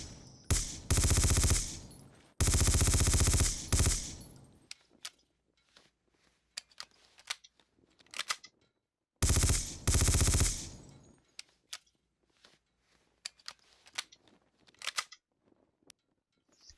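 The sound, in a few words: P90 submachine gun firing in Battlefield 2 AIX mod, video game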